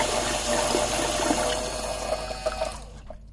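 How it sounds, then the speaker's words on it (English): A SEAFLO 13B 1100 automatic bilge pump with timer delay pumps water in a steady rushing, gurgling wash that thins out and stops as it is lifted out of the water. "The pump cycles on and keeps pumping because water is present."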